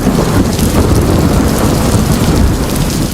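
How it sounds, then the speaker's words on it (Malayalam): Heavy rain pours down with thunder, a dense, steady, loud downpour with low rumbling underneath and no voices. "പ്രണയമണി തൂവൽ പൊഴിയും ഇതുപോലൊരു മുടിഞ്ഞ മഴ"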